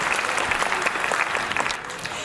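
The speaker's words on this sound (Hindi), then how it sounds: "तालियां बजाकर बताइए।" An audience claps at a Hindi comedy poetry recital, steady and fairly loud throughout the short stretch.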